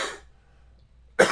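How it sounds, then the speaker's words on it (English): A single short, sharp cough bursts out at the very end, after a brief breath-like rustle and near silence. "Excuse me, COVID cough."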